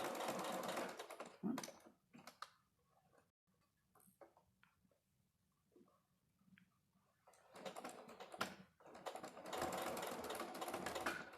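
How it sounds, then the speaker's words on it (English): A sewing machine runs in fast mechanical bursts while stitching along the edge of a quilt's binding, with clattering stretches at the start and end and a quieter pause between, close and without talk. "we're going to just sew right along the edge of that binding"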